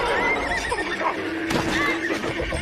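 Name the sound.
horse neighing as it balks and refuses to continue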